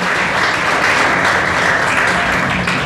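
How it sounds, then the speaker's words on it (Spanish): Loud, dense applause from a crowd at an awards event, steady and sustained throughout. "me parece un fuerte aplauso para esta gran iniciativa"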